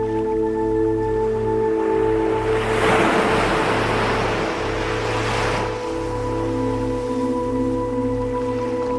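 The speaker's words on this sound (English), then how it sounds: "observing the waves." Ocean waves on a shore, one soft wash of surf rising and falling over several seconds over a steady low hum, with no talk.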